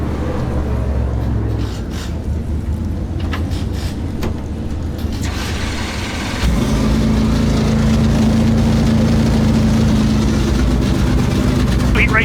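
Dirt track race car engines rolling around the track at a heat race at The Farm: a loud, continuous low drone that swells and thickens partway through, with a voice faintly beneath it.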